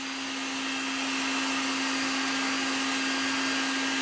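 A Harbor Freight heat gun runs with a constant airy fan roar and a steady motor whine, close and unbroken, with no voices.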